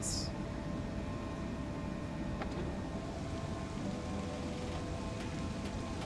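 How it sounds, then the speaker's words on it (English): Steady rain falls in the train simulator SimRail, a constant dense hiss with faint scattered ticks, unbroken and even in level for the whole stretch. "You can hear the rain in the background."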